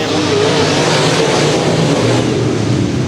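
Several USRA Modified race cars accelerating during a heat race, a loud, dense roar of engines blending together continuously, close and unbroken.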